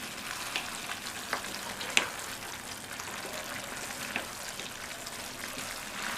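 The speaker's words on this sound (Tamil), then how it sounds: "இப்போது ஸ்டவ்வோட தீயை கூட்டிட்டு நல்லா இதை கிண்டி விட்டுடலாம்." Semiya kichadi with vegetables is stirred in a pan on the stove, giving a soft, steady sizzle with a few small scraping clicks of the spoon; quiet and close, with no talking.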